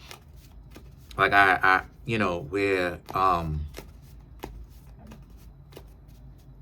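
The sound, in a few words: tarot cards being shuffled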